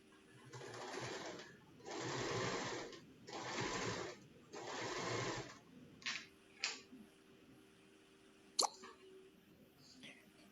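A sewing machine stitches patchwork strips in four steady bursts of rapid mechanical whirring separated by short pauses, followed by a couple of brief clicks and quieter handling sounds.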